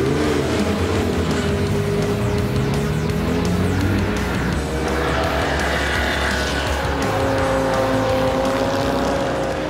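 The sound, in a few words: classic race cars (Jaguar, Austin Healey, Porsche) racing at Spa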